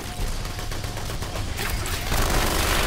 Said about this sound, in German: Ich hab Maschinengewehr mit unendlich viel Schuss.